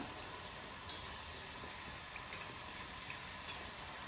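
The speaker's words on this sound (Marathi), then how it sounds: "आणि सारखं हलवत राहायला लागेल आपल्याला म्हणजे त्या सगळीकडून छान अशा खरपूस तळून निघतील" Foxtail millet masala shankarpali deep frying in hot oil while being stirred, giving a steady, dense sizzle with faint scattered pops and scrapes throughout.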